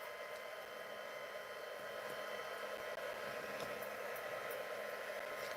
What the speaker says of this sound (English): And then that heat tool would be nice and hot. That's all the noise in the background.